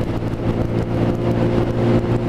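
Lexmoto ZSB 125 motorcycle cruising at around 55–60 mph, a steady droning engine note mixed with constant wind rush, close and continuous.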